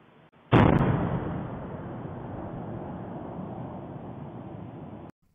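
A volcanic fissure eruption in Iceland near Grindavik opens with a sudden loud bang, then a broad roaring rumble that sustains for several seconds before cutting off, with no voices.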